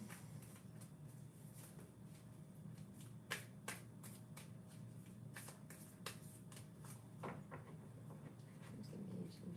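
Tarot cards are shuffled quietly up close in short riffling bursts and soft snaps, over a low steady background hum.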